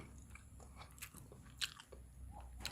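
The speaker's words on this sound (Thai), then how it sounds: "มานี่ครับกินแบบธรรมดาดูก่อนว่ามันมีรสชาติไหมนะครับ" Someone bites into and chews a cheap five-baht street hot dog on a skewer, giving a few soft, close bites and mouth noises over quiet background hum.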